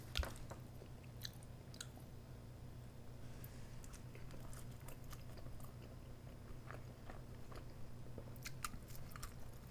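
Close, quiet chewing of a quesadilla, with soft wet bites and crunches repeating irregularly over a low steady background hum, no talking.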